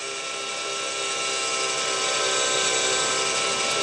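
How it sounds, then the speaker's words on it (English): RC helicopter flying stunts such as flips, loops and rolls, giving off a continuous high-pitched whine of motor and rotor that stays steady and close, slightly building in loudness, with no voices present. "When you first start doing these, you might notice the helicopter comes towards you."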